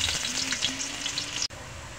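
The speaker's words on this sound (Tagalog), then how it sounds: "Yan mga kaibigan, ay prito na natin yung ating patatas." Potatoes sizzle and crackle steadily in hot cooking oil, a dense, close frying hiss that runs unbroken with a brief dip near the end.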